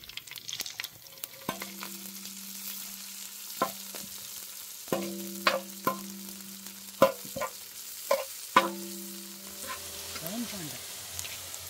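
Three large finely chopped onions sizzle as they fry in a pan for a New Year biryani, with a soft continuous frying hiss broken by repeated clinks of a spoon stirring against the pan.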